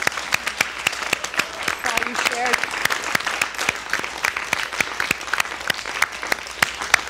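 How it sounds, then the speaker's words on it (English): An audience gives a round of applause at a session, with steady, crisp clapping throughout and a brief spoken remark partway through. "would you give them all an amazing round of applause"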